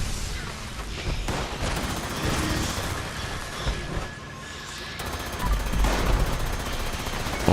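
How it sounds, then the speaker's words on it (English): Ultrasight Gatling laser firing in a video game during a Mischief Night public test server session, a dense continuous rattle of rapid shots with crackling bursts, loud and sustained, faint talk underneath. "Ultrasight Gatling laser is fun to use, though, if anything."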